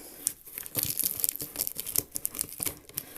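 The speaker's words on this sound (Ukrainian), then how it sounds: "Отримала я посилку. Відразу і розпаковую." Parcel packaging being torn open and crumpled by hand, with sharp ripping bursts and crinkling in an irregular, close rhythm, no talking.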